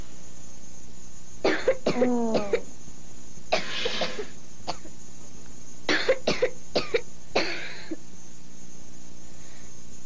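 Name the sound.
child coughing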